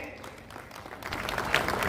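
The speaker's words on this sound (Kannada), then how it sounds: "ಚಪ್ಪಾಳೆ ಬರಲೇಬೇಕು ನಮ್ಮ ಎಲ್ಲ ಅತಿಥಿ ಗಣ್ಯರಿಗೆ" An audience at a formal Azadi ka Amrit Mahotsav event bursts into applause for guests, the clapping starting softly and swelling louder toward the end.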